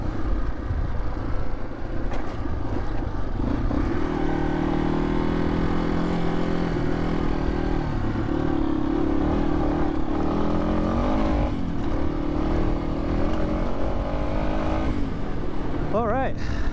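A 2010 Yamaha XT250, a small motorcycle, rides a lap with its engine droning steadily and close, its pitch rising and falling as it speeds up and eases off.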